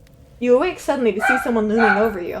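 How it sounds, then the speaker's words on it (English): Small dogs bark and yip at random in the background of a room, their barks mixed in with a person speaking steadily over them. "I apologize if you hear dogs barking in the background."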